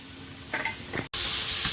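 Fresh river shrimp sizzle and crackle in hot oil in a pan, with a stirring scrape midway, a momentary dropout, then a loud, steady close-up frying hiss.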